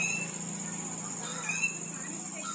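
Faint bird calls and chirps come from a distance in a village, over a steady insect-like drone, with a soft murmur of voices in the background.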